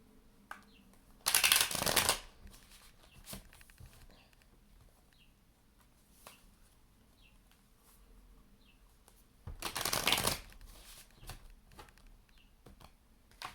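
A Fountain Tarot deck is shuffled up close in two brief, crisp riffling bursts several seconds apart, with quiet card handling and soft taps filling the gaps.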